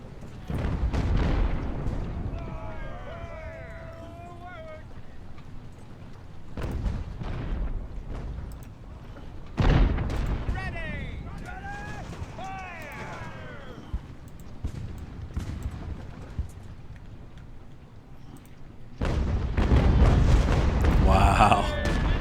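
Age-of-sail battle in the video game Ultimate Admiral: Age of Sail, with cannon and artillery fire landing as several deep, scattered booms against a low battle rumble while someone talks over it.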